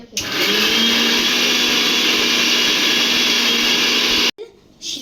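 Black cumin and pepper ground in a kitchen mixer-grinder: a loud, steady motor whir runs continuously for about four seconds, then cuts off abruptly, leaving a quieter tail.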